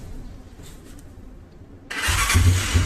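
A self-start motorcycle engine cranks on its electric starter, a quiet lull followed by a sudden loud burst of starter motor whir and engine noise.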